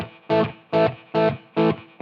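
A distorted electric guitar plays a simpler variation of a 1970s rock riff, striking five short, loud chords in an even, steady rhythm, each one ringing briefly before cutting off.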